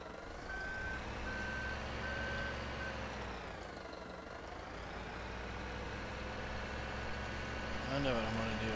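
Service trailer truck reversing in a farming video game, sounding a steady series of evenly spaced electronic beeps over a constant engine drone, with talk over it.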